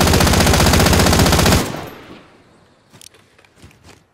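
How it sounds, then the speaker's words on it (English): Loud, rapid machine-gun fire in a video game, a dense sustained burst for over a second that cuts off abruptly, followed by a few faint scattered shots and movement in the quiet after. "I'm under fire."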